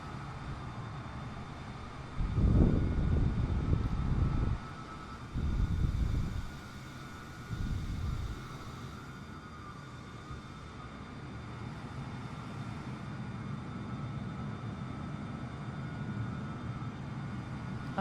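A320neo airliner engines in Microsoft Flight Simulator hum steadily while waiting in a takeoff queue, with a few loud low bursts of engine thrust early on that fade back into a constant drone.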